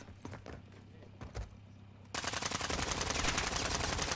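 Rapid automatic gunfire in a shooter video game, preceded by a few scattered single shots and then a sustained, loud burst of fire for the last two seconds.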